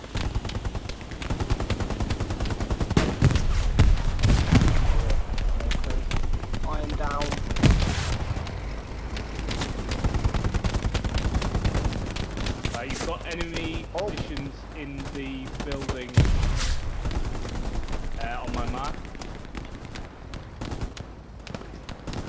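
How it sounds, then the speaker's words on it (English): Suppressive gunfire in the World War II shooter Hell Let Loose on the Foy map, dense bursts of rifle and machine-gun fire, near and far, with voices talking over it. "I'm putting suppressive fire on."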